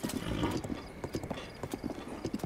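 Horse hooves clip-clopping in The Legend of Zelda Breath of the Wild: a quick, steady run of hoof beats heard close and fairly loud, with a faint mechanical undertone beneath.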